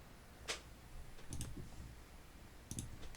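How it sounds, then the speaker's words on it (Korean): A few quiet computer keyboard clicks sound in a near-silent room during Mastercam 2022 drafting, one single tap followed by a couple of small clusters of presses. "원 그리기에서 키보드 O 누르고"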